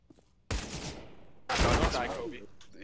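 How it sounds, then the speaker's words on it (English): Gunfire in a tactical shooter video game as an enemy shoots through a wall, two loud bursts of rapid shots starting at about half a second and again near one and a half seconds, with a voice faintly underneath. "He's shooting you through the wall."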